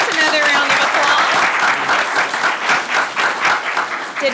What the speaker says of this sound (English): let's give the middle school students another round of applause